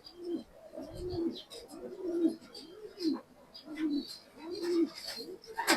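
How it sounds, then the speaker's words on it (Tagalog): Racing pigeons coo at the loft as they return home, a near, rhythmic series of soft throaty rolling coos repeating every second or so, with faint chirps and a little background voice. "Pumasok na yung isa, mga kalapatids."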